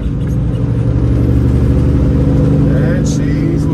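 A Kenworth W900 truck's engine drones loudly and steadily from inside the cab while cruising in 18th gear around 1300 RPM, a dense low rumble that shifts slightly in tone near the end as it downshifts.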